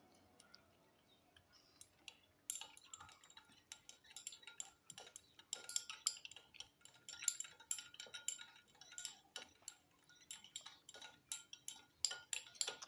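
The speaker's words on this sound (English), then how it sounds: "So we are stirring, stir it gently." A utensil gently stirs heated shampoo phases in a pot over low heat, giving faint, irregular clinks and scrapes that tick along in quick, uneven clusters in a quiet room.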